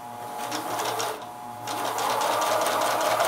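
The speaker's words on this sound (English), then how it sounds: "on this final one, you'll be sewing over 2 seams instead of 1" A sewing machine stitches a log cabin quilt block with a quarter-inch seam, crossing two seams, its motor running in a close, even whir that pauses briefly and then resumes steadily.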